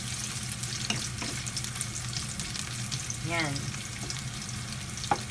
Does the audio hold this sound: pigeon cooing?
no